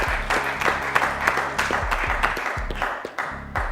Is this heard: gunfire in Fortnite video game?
no